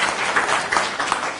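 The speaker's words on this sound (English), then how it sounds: "So please give him a specific round of applause for joining us." Brief burst of audience clapping for a panel speaker at a public discussion session, steady and fairly close, with no talk over it.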